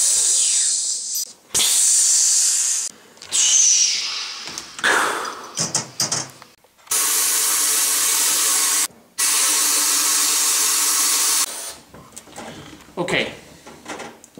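A finishing machine gives a Yoyofactory FAST 201 yoyo a satin finish, producing loud bursts of harsh spraying hiss, some several seconds long, broken by short pauses and quieter shuffling sounds.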